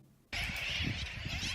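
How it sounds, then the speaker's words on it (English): A dense chorus of seabirds on the Dry Tortugas islands cries continuously, shrill and overlapping, starting abruptly after a quiet moment and holding steady with wind noise underneath. "Here's a video of some birds on the island."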